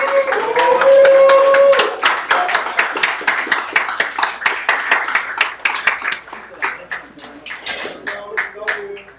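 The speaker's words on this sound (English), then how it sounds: "Let's give a big round of applause for the magician," Audience applause at a Shaun Murphy snooker exhibition in Vancouver, starting under a host's voice and breaking into sustained rapid clapping that thins toward the end.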